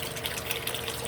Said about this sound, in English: I'll use the same brush, wash it off with water